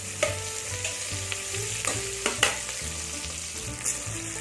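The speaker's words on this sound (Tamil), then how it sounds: "வெங்காயம் நல்லா வதங்கிடுச்சு" Chopped onions sautéing and being stirred in a pan for a Tamil vegetable masala pulao, a steady close sizzle of frying with occasional spoon scrapes and clinks against the pan.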